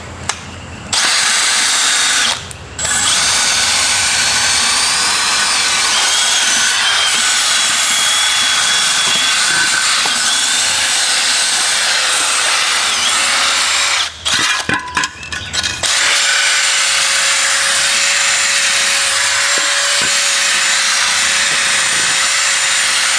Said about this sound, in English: I think we're going to wire wheel it, get rid of all this gummed up crap.